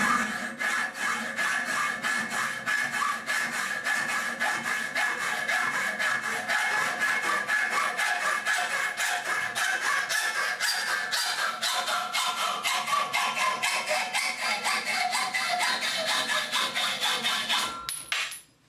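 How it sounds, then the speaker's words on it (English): A hacksaw cuts through steel conduit clamped in a vise, with steady, rapid back-and-forth rasping strokes close and continuous for nearly the whole stretch before stopping abruptly at the end. "If you do cut this using a hacksaw, it's important that you get it as close to the vise as possible."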